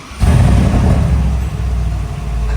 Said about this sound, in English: startup of this 850 horsepower G-Wagon